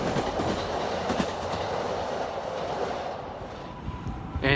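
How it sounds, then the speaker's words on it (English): Trains rumble past at Shinagawa in Tokyo, where Tokaido, Yamanote, Keihin Tohoku, Shinkansen bullet train and Narita Express lines run side by side; a steady, loud wash of rail noise with rhythmic clickety-clack wheel beats, with no talking. "here you can see the trains, the Tokaido line, the Yamanote line, the Keihin Tohoku line, the world-famous Shinkansen or bullet train"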